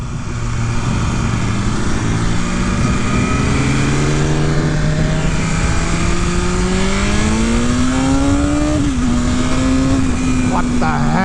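A BMW S1000RR superbike engine burbles loudly and continuously through its exhaust, the pitch rising and falling as the revs change on a test ride, with steady wind noise and a voice talking over it.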